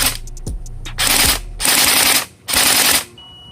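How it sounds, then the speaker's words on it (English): Bolt B4 MK18 Mod 1 airsoft gun with a recoil shock system firing three loud, close full-auto bursts of rapid, rattling shots separated by short gaps, preceded by a few clicks. "the best part about the Bolt B4 Mark 18 is its recoil shock system"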